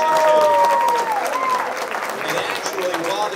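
A crowd applauds at a Carolina beach music hall of fame event, with steady clapping under a voice and music tones, loud and close throughout.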